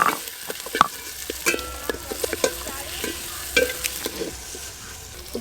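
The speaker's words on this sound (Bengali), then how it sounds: "এবার আদা রসুন বাটাও দিয়ে দেব।" Ginger garlic paste frying with browned chopped onions in a pan for vegetable pulao, a steady close sizzle with repeated scraping stirs and small clicks of the spoon, no voices.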